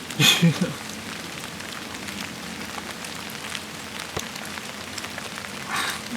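Steady rain patters on leaves and ground in a forest, a soft continuous hiss with scattered drips and a few louder rustles.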